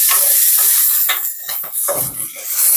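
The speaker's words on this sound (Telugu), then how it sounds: "బాగా వేగుతున్నాయి ఇంకొద్దిగా వేగాలి చూసారా బెండకాయలు చక్కగా వేగిపోయాయి" Okra pieces fry in a pan for a Telugu bendakaya roti pachadi, giving a loud, close, steady sizzle with stirring scrapes and brief clatters over the hiss.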